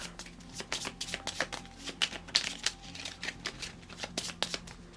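A deck of Marvel Champions cards being shuffled by hand, rapid crisp riffles and flicks in quick repeated bursts, close and fairly loud, with no talking.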